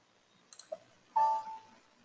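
Mouse clicks on save in SAP accounting software: a few faint, quick clicks, then a brief louder electronic tone, heard alone in a quiet room.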